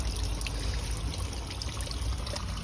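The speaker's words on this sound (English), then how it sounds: "It's leaking out the water meter." Water leaks and splashes continuously from a burst pipe at a worn-out water meter, giving a steady close trickling and pouring rush with no break.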